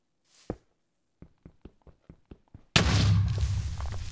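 Explosions in Minecraft PE with a hardcore lucky blocks mod: a string of soft thumps and pops comes first, then a sudden loud blast erupts and rumbles on with crackling debris.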